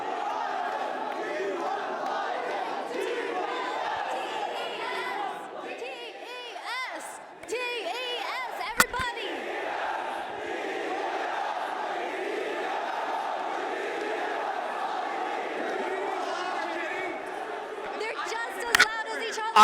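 An esports arena crowd at the EWC grand final between T1 and Top Esports roars and chants in a sustained, dense wall of voices, with sharp peaks of cheering near the middle and end.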